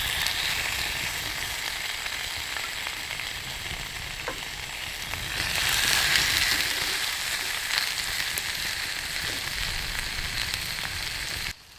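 Bacon-wrapped pork fillets tied with twine sizzling in a hot Lodge 6-inch cast iron skillet, a close, steady loud sizzle with crackles that swells midway and continues until a sudden stop.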